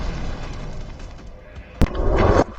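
A Ukrainian van blown apart by a drone strike, heard as one sharp, loud blast followed by a roaring rumble of debris that fades after about half a second, over a low background murmur.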